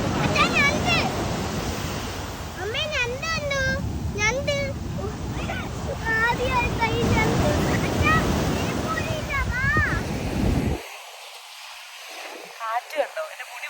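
Strong wind buffeting the microphone over the roar of rough, high surf at a beach, with voices calling faintly in the background before the noise suddenly drops away.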